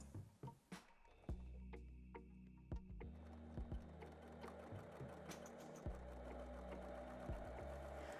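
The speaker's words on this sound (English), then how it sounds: "With a leather needle on the machine, it's sewn through that with no problem at all." A heavy-duty sewing machine fitted with a leather needle stitches through soft leather with bag lining and a handle, running in a steady mechanical hum with rhythmic needle thumps, starting after a few handling clicks.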